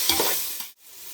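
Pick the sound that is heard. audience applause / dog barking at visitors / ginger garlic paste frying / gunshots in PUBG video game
ginger garlic paste frying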